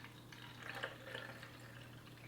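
Water poured into the side reservoir of an automatic makeup brush cleaner, a soft steady trickling and splashing fill that stays even and close throughout, with no voices.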